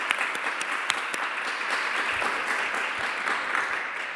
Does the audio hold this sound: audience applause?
yes